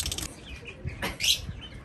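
Quick bursts of wings flapping as a pigeon takes off from a village rooftop, close by, with a faint chirp among them.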